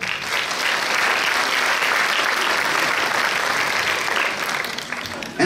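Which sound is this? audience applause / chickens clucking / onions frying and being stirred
audience applause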